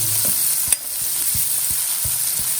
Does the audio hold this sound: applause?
no